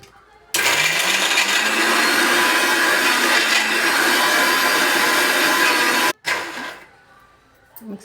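A mixer grinder blends cow dung paste with cow's milk, a loud steady whir starting abruptly and running for several seconds, then cutting off, followed by a short quieter burst.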